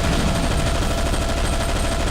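Continuous heavy gunfire from the top-down shooter Zombie Shooter 2, a dense unbroken rattle of rapid shots at constant loud level with no pauses or voices.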